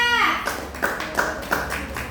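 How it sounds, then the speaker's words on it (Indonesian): A classroom claps for a student group during a coding and artificial intelligence lesson, with a voice trailing off at the start and then a handful of distinct, evenly spaced claps in a small room. "Ya, tepuk tangan untuk kelompok 2."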